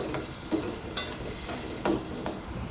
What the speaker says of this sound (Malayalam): ഇനി നല്ലോണം ഒന്ന് ചിക്കിയെടുക്കാം